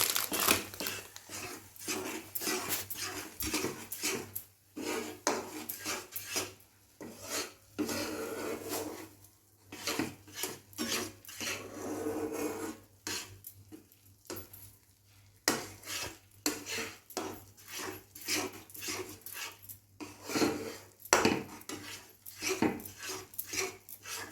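A spoon scrapes and clatters against a pan while puran filling with milk powder is stirred, a rhythmic string of close metallic scrapes and knocks throughout with faint background hum.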